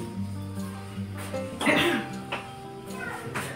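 A young child coughs indoors in the morning, a short burst of coughs near the middle, with low household background and a bit of voice around it.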